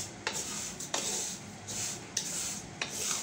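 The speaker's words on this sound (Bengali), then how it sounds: "এখন ভালো করে ভেজে নিব" Homemade kunafa frying in a pan, with a steady sizzling hiss and repeated scraping, stirring strokes of a utensil against the pan at an uneven rhythm, close and moderately loud.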